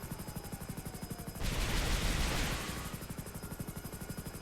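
A Hunter military helicopter in GTA 5 Online fires rockets, a dense whooshing blast cutting across the steady rhythmic thump of rotor blades for about a second and a half before the rotor chop continues alone.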